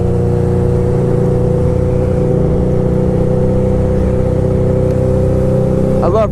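Motorcycle engine droning steadily at speed during a ride, loud and continuous with strong wind rush and a brief shift in pitch near the end.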